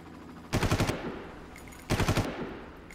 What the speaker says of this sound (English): Hello, Mr. Helicopter.